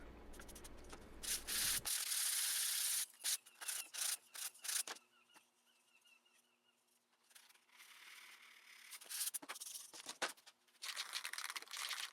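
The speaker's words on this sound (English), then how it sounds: "I gave the box a quick sanding with a pretty high grit sanding block" Rhythmic back-and-forth scraping of a high-grit sanding block on a lacquered wooden box, in bursts of strokes with short pauses between, close and clear.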